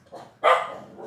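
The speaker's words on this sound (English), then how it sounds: "Excuse the dog barking." A dog lets out a single sharp bark close by, preceded by a softer low grumble and trailing into a faint whine, with no talking over it.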